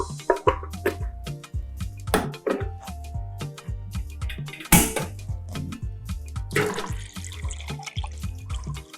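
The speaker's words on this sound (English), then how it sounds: "So we add some water to it." Water splashing and pouring into a pot of catfish pepper soup, with rhythmic low thumps and clinks of cookware, close and irregular.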